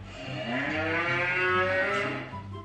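One long, loud cow moo, near and unbroken, swelling in the middle and tapering off at the end, with no voices over it.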